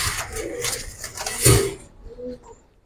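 Giribaz pigeons, a pair being shown by hand, give a brief low coo with faint wing flutter and handling noise underneath, ending in near quiet.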